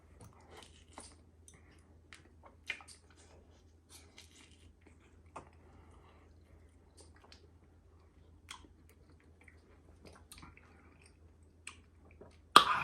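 Someone chewing a homemade pickled snack while drinking whisky, producing soft, intermittent crunchy bites and mouth sounds close to the microphone in a quiet room, with a louder clatter at the end.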